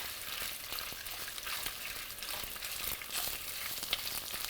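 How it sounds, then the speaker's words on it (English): Hot sausage sautés in hot oil, giving a steady, close sizzle with small crackles and a few soft clicks that may be a utensil, continuing evenly with no talk. "the oil is hot and we put the sausage. Now we saute the sausage nice"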